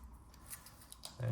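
Razor blade slicing open a tough, child-resistant packet holding a Subaru key fob battery, a few faint, quick close-up scratchy cuts under quiet talk.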